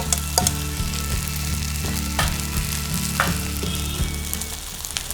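Grated coconut sizzles steadily in a hot pan, a loud close frying hiss with a few sharper crackles and stirring scrapes, and no voices.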